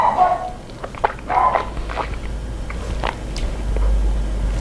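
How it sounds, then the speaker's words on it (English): A dog moves around nearby indoors, its paws, jingling and small whimpering noises coming in scattered bursts, fairly close and moderately loud, with no clear talking. "There goes the dog."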